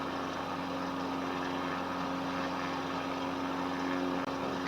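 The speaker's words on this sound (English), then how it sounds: "slow down my engines a little bit." In Microsoft Flight Simulator 2020, an airplane's engines hold a continuous, unchanging drone with a clear humming tone underneath, steady and unbroken throughout with no speech.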